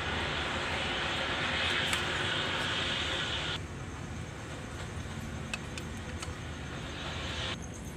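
An electric generator engine whose fuel line has been loosened with a 19 wrench cranks on its starter, a steady loud mechanical drone that drops in level partway through and then continues.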